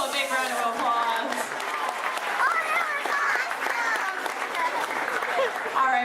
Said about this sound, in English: Everybody give Mitchell a big round of applause.